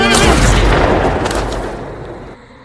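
A loud pistol gunshot with a long, booming decay that rolls off and fades over a couple of seconds.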